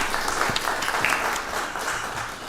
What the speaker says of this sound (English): Let's give Parks and Rec a round of applause.